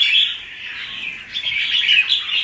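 A caged songbird chirps in quick, bright, close tweets that run almost continuously over a quiet background.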